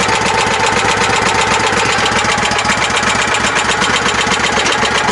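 Snatch tractor tow rig engine idling low and steady, a loud, close, continuous rumble with a fine knocking pulse and no pauses or voices.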